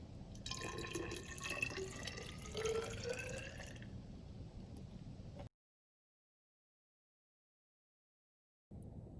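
Water from a 100-milliliter measure pours and trickles steadily into a tube for about five seconds, a faint bubbling fill, then silence before a brief return of soft background noise.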